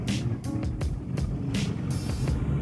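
Congested road traffic heard from a moving Yamaha Nouvo motorbike, with a steady low engine drone and road rumble, broken by bursts of wind noise and passing vehicles close by.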